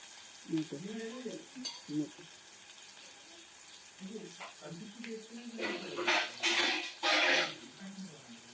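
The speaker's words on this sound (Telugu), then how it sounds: "మంచిగా కలుపుకోవాలి" Chicken liver fry stirred in a pan, soft scraping and sizzling that swells into louder bursts toward the end, heard close after a voice speaks early on.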